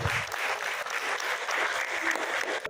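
An audience at a women's empowerment award ceremony in Delhi claps loudly and continuously, a dense, steady round of applause close by.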